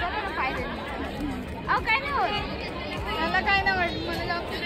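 Crowd gathered at a temple ticket counter, with busy overlapping chatter and a few clear nearby voices standing out from the steady babble.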